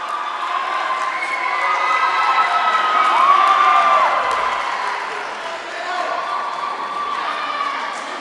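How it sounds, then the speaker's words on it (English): Spectators cheer and shout steadily for the final swimmer at a high school swim meet in an echoing indoor pool, a sustained roar of voices rising toward the middle of the race. "Everybody's cheering her on."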